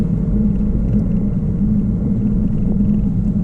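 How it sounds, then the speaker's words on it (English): A 2018 Chevy Camaro RS convertible accelerates on a country road with the top down, producing a loud, steady low engine drone and rumble throughout, with no voices. "Top down, nothing going on, and hitting the gas."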